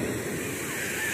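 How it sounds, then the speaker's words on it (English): Ocean waves at the shore make a steady, dense wash of surf with no clear breaks, loud and close, filling the whole short stretch like rushing water. "Enjoying this beautiful music the ocean makes"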